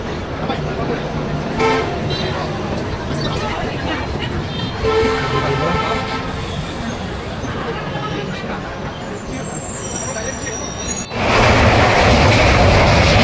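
A train departing Kamakhya station in Assam sounds its horn among continuous loud rail rumble and rattling, with a burst of louder noise near the end as people talk over it.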